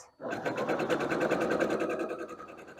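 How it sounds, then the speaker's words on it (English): Sewing machine running steadily for about three seconds while stitching quilt block pieces for a barn star sampler block, a fast even needle rhythm that stays close and fairly loud throughout. "And I am sewing twice so that I'll be able to do 2 of these blocks."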